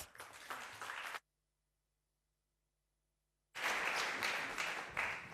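An audience claps in a steady burst, breaks off into complete silence for a couple of seconds, then resumes with louder, fuller applause.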